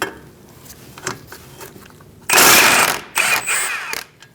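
A hand ratchet works a bolt loose from a 2002-2006 Toyota Camry steering knuckle, giving light clicks and then louder bursts of rapid close metallic clatter.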